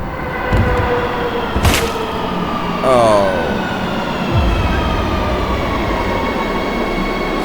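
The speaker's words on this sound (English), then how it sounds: "The train thunders forward." A train in the visual novel game Lucid9 roars past as a dense, loud rumble of rail noise, with metallic screeches and brief whistling tones rising over the steady roar.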